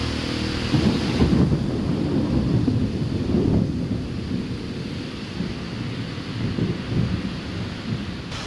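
Heavy rain pours down in Singapore with rumbling thunder, a dense continuous roar with low booming swells, loud and close throughout and no voices.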